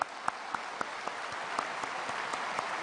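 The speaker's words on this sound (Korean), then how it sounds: "하나님께 영광과 감사의 박수를 올리겠습니다." Applause fills a church New Year's Eve service, a soft, steady patter of many hands clapping at a distance, with a few sharper individual claps standing out in a regular rhythm.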